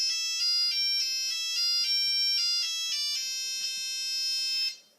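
A custom-composed ringtone on a Nokia 3310 mobile phone plays a bright, beeping monophonic melody of short and held notes, loud and close, then cuts off at the end.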